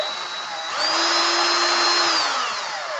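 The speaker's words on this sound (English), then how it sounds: "I'm going to leave my drill in reverse." Handheld power drill spinning in reverse with wet/dry sandpaper, a steady high motor whine that rises in pitch and load partway through, holds for over a second, then eases off, loud and close with no talk.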